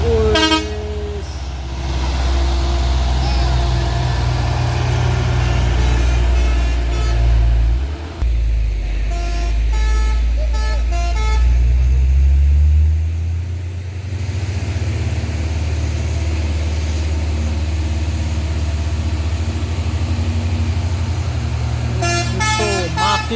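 An Isuzu Elf truck engine labors up a dusty uphill slope, loud and close, with a deep droning roar that rises and dips, a few horn toots, and voices speaking over the engine.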